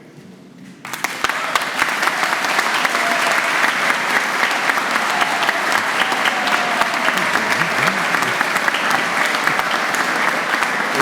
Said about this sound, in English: applaud each other as loudly as you can